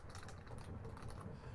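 Quick, quiet clatter of keys on a computer keyboard, a rapid run of light taps close by with no talking.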